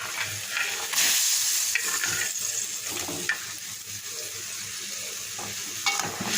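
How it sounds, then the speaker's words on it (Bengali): Fried fish go into boiling spiced curry water in a pot, giving a soft continuous bubbling sizzle with occasional stirring scrapes and clinks, close but fairly quiet, no voices. "পানিটা ফুটে উঠেছে এবার ভেজে রাখা মাছগুলো এর ভিতরে দিয়ে দেবো"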